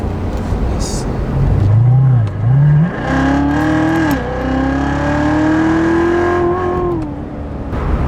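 A supercharged Chevrolet Corvette Z06 accelerates hard with the pedal floored, its loud, close engine note climbing in pitch, dipping briefly, then rising again in a long sustained pull before easing off.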